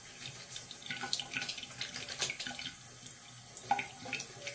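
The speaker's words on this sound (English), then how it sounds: "All right, just put some water in here" Tap water runs steadily into a shaving soap bowl, a close, soft splashing stream with small irregular gurgles and spatters over a few seconds.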